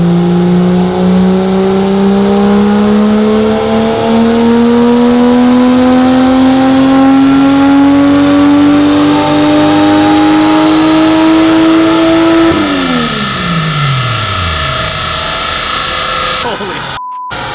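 An LS-swapped Datsun Z roars on a dyno, its loud engine note climbing steadily in one long pull, then dropping off as revs fall, with people talking faintly underneath.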